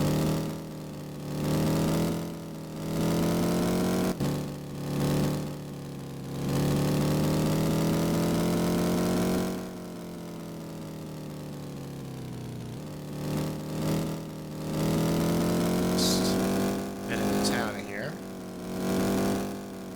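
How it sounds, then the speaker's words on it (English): A car engine idles with a loud, rumbling exhaust drone, swelling and dipping in pulses while someone talks over it. "This is really loud. I have to do something about this exhaust."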